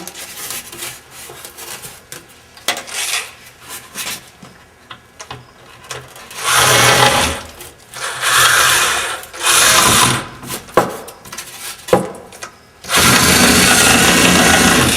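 A power drill buzzes in several short, loud bursts, with quieter pauses between and a longer sustained run at the end, close by.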